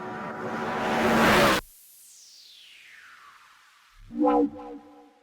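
A dense noisy whoosh builds and cuts off abruptly, leaving a reverberant falling tail, then a short distorted tonal burst rings out.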